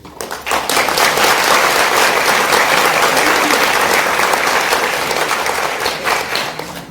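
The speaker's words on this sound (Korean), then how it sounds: "정말 저는 박수 치고 싶습니다." Steady audience applause from a crowd at a Korean film screening event, dense continuous clapping at full strength for about seven seconds, tapering slightly at the end.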